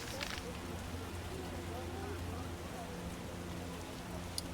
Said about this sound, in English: Run for your lives, it's raining.